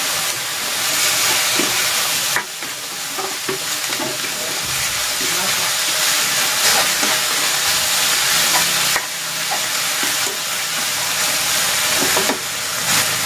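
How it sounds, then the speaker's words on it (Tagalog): Papaya sautés in a hot pan with oyster sauce, salt and pepper, giving a loud, steady sizzle broken by brief stirring scrapes and pauses. "Igigisa ko na dito itong papaya."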